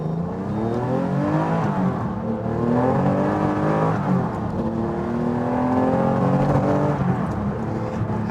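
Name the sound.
TVR Sagaris sports car accelerating through the gears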